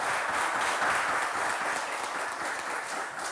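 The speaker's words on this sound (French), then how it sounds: "Est-ce qu'on peut les accompagner avec des applaudissements?" An audience at a French game show applauds the contestants with dense, steady clapping that fills the room, loud and continuous from start to finish, with no talking over it.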